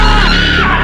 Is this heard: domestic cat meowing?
no